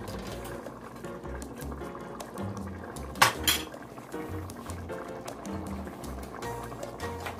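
A lid clinks onto a cooking pot of simmering pinakbet vegetables, one short metallic clatter standing out midway above a steady, busy kitchen background with a low rhythmic hum.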